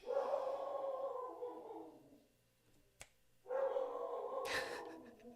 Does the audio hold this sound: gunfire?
no